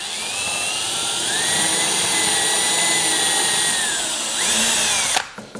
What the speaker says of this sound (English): Then what we're gonna do is drill through all four corners here.